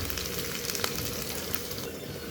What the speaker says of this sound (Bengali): আদাটা একটু ভেজে নেব।